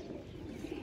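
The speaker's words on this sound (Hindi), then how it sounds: "इस डैडी कबूतर का पट्ठा आ रहा है नीचे भी।" A faint, brief low coo from domestic pigeons at a loft, heard alone for under a second.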